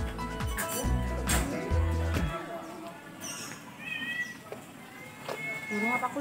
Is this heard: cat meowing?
yes